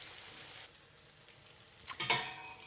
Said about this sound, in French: Regardez-moi comme elles sont belles, les aubergines frites.